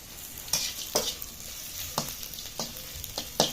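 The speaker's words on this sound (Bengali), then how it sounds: "এবার আমি ওই ডিম ভাজা তেলটাতে বালুচাটা মাছের শুটকিটা" Dried balu chata fish fries in oil left over from frying eggs, giving a soft, steady sizzle. Sharp spatula scrapes and taps from stirring break in every half second or so.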